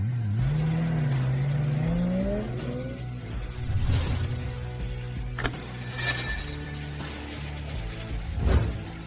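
A car engine starts and revs, rising in pitch over the first few seconds, then settles into a steady idle with mechanical clunks, close and loud, with no talking.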